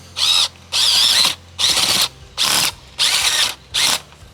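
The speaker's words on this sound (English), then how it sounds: "So occasionally you can get that drill binding a little bit." A power drill with a bulb auger whirs in six short bursts, each about half a second, separated by brief pauses, close and loud as it bores into shaded garden soil, occasionally binding.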